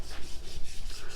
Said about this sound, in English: is sanding and prepping for paint of these last couple sections here for the wall